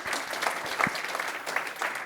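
Audience applause fills a room at a business technology presentation as speakers from Avertra are welcomed, a steady moderate clatter of many hands lasting a couple of seconds with no talk over it.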